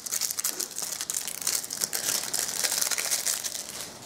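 Crinkly wrapping being torn and crumpled open around a small bottle of brush-cleaning lotion from a surprise parcel, a close, continuous run of rustling and crackling with no voices.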